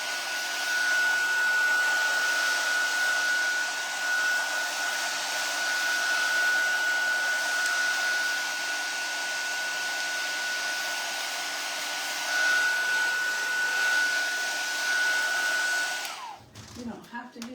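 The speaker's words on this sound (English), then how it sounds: "And it's best to use a cool dryer." A hair dryer blows with a steady, loud whoosh and a faint whine for about sixteen seconds, then cuts off abruptly followed by brief handling noise.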